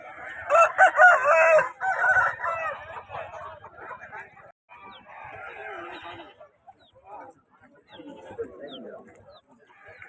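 Punganur roosters crow loudly and repeatedly up close at a weekly chicken market, with more crowing and clucking farther off among a busy, noisy crowd of birds.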